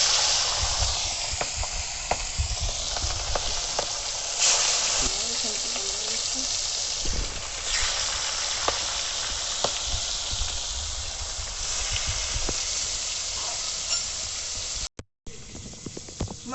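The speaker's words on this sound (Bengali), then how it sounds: "মাছ ভাজা হচ্ছে" Rui fish fries in hot oil in a kadai, a loud continuous close sizzle and hiss with occasional crackles and pops, briefly cut near the end.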